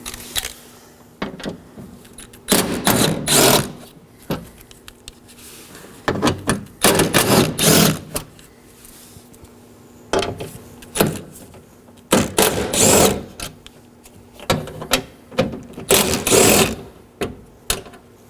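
A 10mm ratchet backs out the window regulator mounting bolts inside the door of a 2013-2019 Nissan, in repeated loud bursts of rapid clicking separated by short quiet gaps.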